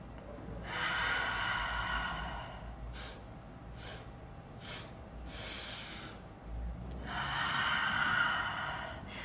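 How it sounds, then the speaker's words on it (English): A group draws big deep breaths together, each a long airy inhale or exhale, a few in slow succession with short gaps and a brief pause in the middle, close and fairly soft, with no talking. "Take our big, deep breaths."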